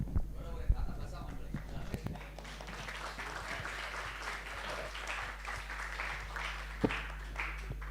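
An audience at a national conference claps in a steady, fairly quiet patter of many hands that runs throughout, with voices heard over it.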